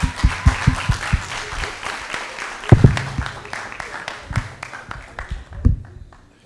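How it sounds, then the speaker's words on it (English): A youth talk audience gives a round of applause: scattered, uneven claps rising and fading, with some talking mixed in, before trailing off near the end. "Let's give a round of applause"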